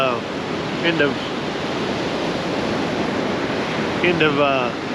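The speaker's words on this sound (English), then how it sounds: "We are at Crystal Beach, Texas." Ocean surf at Crystal Beach, Texas: a steady broadband wash of waves that fills the whole stretch, with voices talking briefly over it near the start and end.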